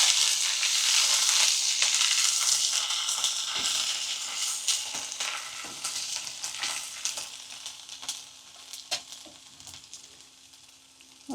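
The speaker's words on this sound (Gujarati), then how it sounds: "આદુ, મરચાં, લસણની પેસ્ટ કરીને રાખી છે, એ નાખી દઈ તેલમાં. બધું તેલમાં હલાવી નાખવાનું છે" Ginger, chili and garlic paste stirred into hot oil, starting with a loud, dense sizzle that gradually fades, broken by sharp scraping and tapping of a spoon against the pan, with no voices.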